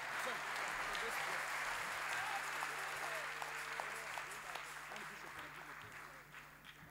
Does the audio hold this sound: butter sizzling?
no